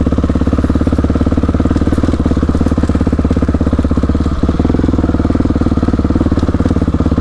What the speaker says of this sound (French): la moto elle est capable de vous faire la piste 4x4